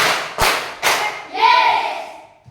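Children in a classroom clap in a chant led by their teacher: two sharp, loud bursts of claps close together, followed by a longer ringing clatter that fades out.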